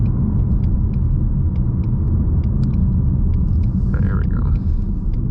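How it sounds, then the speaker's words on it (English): A 2020 Ford Mustang GT's engine rumbles loud and low inside the cabin as the car takes a corner briskly, with a person speaking briefly over it and small ticks and clicks scattered throughout. "we're gonna take this corner up here kind of briskly and see how it handles it."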